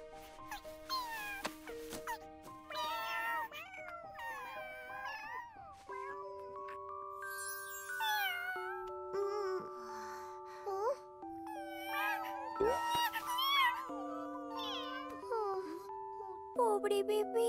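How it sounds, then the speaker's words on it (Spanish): Cartoon kittens in a garden meow in high, tuneful cries over a musical backing, with voices speaking in between. "¡Hay varios gatitos en mi jardín! ¡Gatitos, gatitos!"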